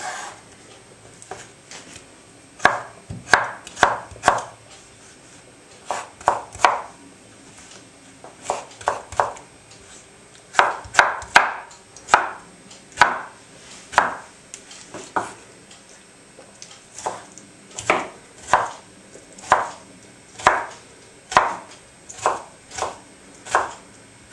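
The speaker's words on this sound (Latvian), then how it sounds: "Griežam smalkos kubiciņos." Rapid knife chops on a cutting board, dicing pickled cucumbers into small cubes in quick bursts, crisp and close, pausing briefly between runs of strokes.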